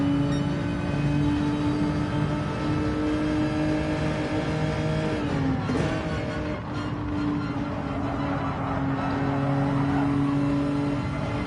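Race car engines droning steadily through a lap of Road Atlanta in a racing game, a loud continuous whine that dips and shifts pitch through a corner partway, then climbs again, with no talking.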